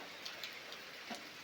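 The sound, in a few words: heavy rain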